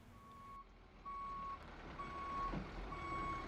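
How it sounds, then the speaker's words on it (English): Reversing beeps from a big box truck loaded with cabinets at a home remodel site. They sound as a steady series of evenly spaced tones over a low engine rumble outdoors. "Got the big box truck here behind me, loaded up with cabinets"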